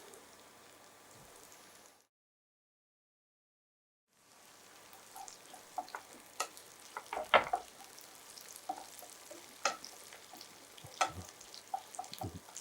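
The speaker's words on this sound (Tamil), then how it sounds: "நல்லா பூண்டு வெங்காயம் லைட்டாக வதங்கட்டும்" Garlic and onion sautéing in a pan for chicken thokku, a soft crackling sizzle that stops in a brief silence, then returns busier with sharp pops and stirring clatter.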